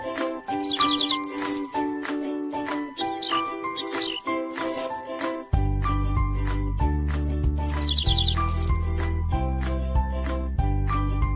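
Cartoon birds chirp and tweet in bright bursts over cheerful jingling game music in a baby pony care game, the music growing fuller and louder partway through.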